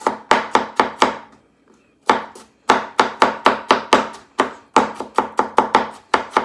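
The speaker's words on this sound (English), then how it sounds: "Got some fresh garlic that I'm just going to mince." Fresh garlic being minced with a knife on a cutting board: quick bursts of sharp, close chops in rapid rhythmic runs, separated by brief pauses, loud and with no talking.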